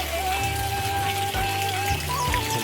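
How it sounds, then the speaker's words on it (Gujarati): Rain falling steadily outdoors during a downpour in a village, a continuous dense patter heard close by, mixed with a low rumbling hum and some faint tonal background sounds. "અને આ વરસાદ પડી રહ્યો છે હજુ પણ।"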